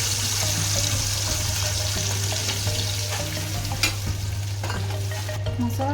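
Masala paste sizzling and frying in hot oil for a bitter gourd (kerela) dish, a steady loud sizzle with occasional stirring clinks and scrapes of a utensil, no voices.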